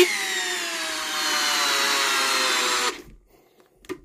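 An old 12-volt cordless power tool whirs steadily at its lowest speed setting, close and fairly loud. It runs for about three seconds, then stops, leaving near silence with one faint knock.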